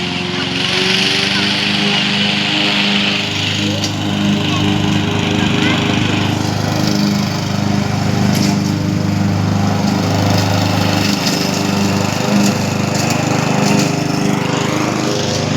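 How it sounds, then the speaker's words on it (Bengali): A machine cutting a large tree in a park in Italy, a steady loud engine drone running continuously up close with faint woody cracking. "এবার বড় একটা গাছ মেশিন দিয়ে কাটবো"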